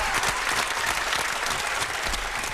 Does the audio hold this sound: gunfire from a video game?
no